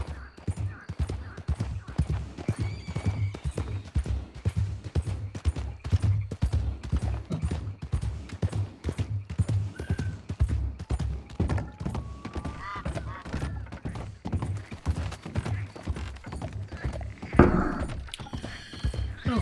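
Galloping horse hooves in Red Dead Redemption 2, a fast, steady drumming of clip-clop beats kept up throughout, loud and close, with a brief louder thump near the end.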